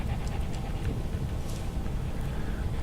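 A dog pants steadily and close by in Fallout London, its quick breaths running continuously under a low rumbling game background with no talking.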